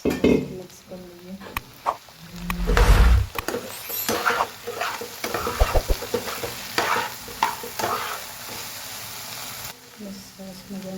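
Okra and potato curry is mixed and fried in oil in a pan. Repeated spoon scrapes and clinks ride over a crackling sizzle, louder in bursts, with occasional faint background sounds.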